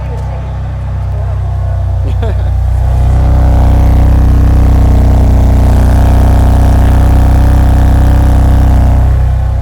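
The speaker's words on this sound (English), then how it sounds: "I'm going to show you the sound of the engine real quick" A 2017 BMW M3's six-cylinder engine cranks and fires up in a showroom, then settles into a loud, steady rumble with a rising rev, close by.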